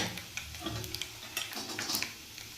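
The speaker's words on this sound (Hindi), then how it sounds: "अब लहसुन को हम सेक लेते हैं" Finely chopped garlic frying in oil in a pan for a pumpkin curry, a soft continuous sizzle with scattered light ticks and clinks of a utensil, fairly quiet and without talk.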